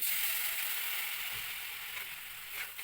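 Spiced pointed gourd fries in a pan with salt, cumin, chili powder and a splash of water, giving a steady close hiss and sizzle that fades slightly over a few seconds as it is stirred.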